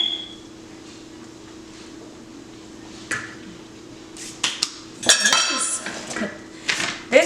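Gluten-free vanilla cake batter is mixed in a bowl: a quiet start, then scattered clinks and scraping knocks of a utensil against the bowl, growing busier and louder toward the end, with no talking.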